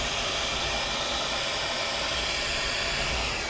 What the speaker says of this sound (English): Ed put the the hairdryer too close to it